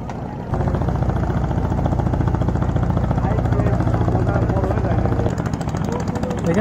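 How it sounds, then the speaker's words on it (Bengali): A small motor boat on the river at Shilaidaha ghat in Pabna runs with a loud, continuous engine drone that stays steady before easing slightly at the end, with someone talking over it. "আর একটা নৌকা আসতেছে দেখতে পাচ্ছি আমরা"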